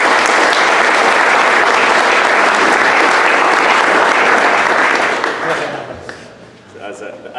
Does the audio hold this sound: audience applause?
yes